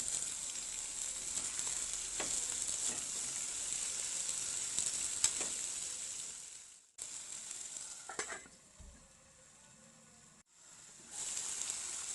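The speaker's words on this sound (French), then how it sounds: "J'ajoute de l'huile végétale, je les laisse cuire pendant environ 10 minutes sur feu moyen." Food sizzling in vegetable oil in a frying pan over medium heat, a soft steady hiss heard close, interrupted by brief stirring clatter and a short drop before the frying resumes.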